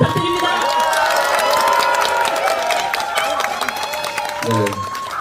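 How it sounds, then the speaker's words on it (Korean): A crowd at a political rally in Ulsan applauds and cheers in welcome, scattered clapping and shouts under a prominent amplified voice speaking over the noise. "힘찬 환영의 박수 부탁드립니다."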